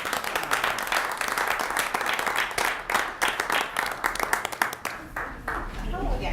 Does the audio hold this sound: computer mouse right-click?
no